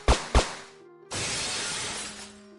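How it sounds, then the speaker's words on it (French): A huge crystal chandelier crashes onto the floor: two sharp, heavy impacts, then a loud sustained shatter of breaking glass that slowly fades, with no voices. "L'énorme structure de verre s'écrasa sur le sol dans un fracas apocalyptique"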